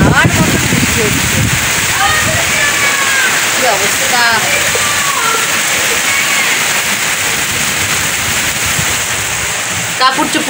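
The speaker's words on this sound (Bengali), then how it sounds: "পুরো হাওয়ার মতন বৃষ্টি হচ্ছে," Heavy wind-driven rain pours outside in a steady, loud roar that never lets up, while a person speaks briefly and faint voices come and go underneath.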